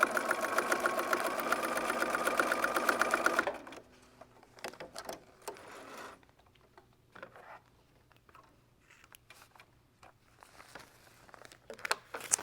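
A sewing machine stitches a narrow quilt border strip in a loud, rapid mechanical whir for about three seconds, then stops, leaving quiet rustling and handling of fabric.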